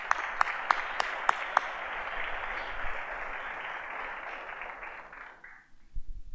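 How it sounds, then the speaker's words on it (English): Applause from an audience at a sports awards event honoring scholar athletes, a dense steady patter of many hands that swells briefly and then fades out near the end, with a few sharp claps at the start. "another round of applause for all the scholar athletes who are in the room."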